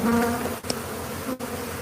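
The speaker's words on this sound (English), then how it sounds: "So, for those of you who are new to the channel, these are killer bees." Killer bees in Cochise County, Arizona, swarm with a loud, dense buzzing that fills the air up close, briefly dipping twice before resuming.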